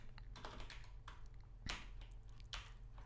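Computer keyboard keys clatter in quick, uneven bursts while someone types a PHP code comment, the soft clicks faint and close with a couple of slightly sharper keystrokes and no voices.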